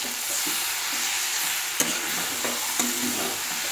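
Prawn curry with a little butter and sugar sizzles steadily in a pan while a spoon stirs it, with a few brief scrapes and taps against the metal.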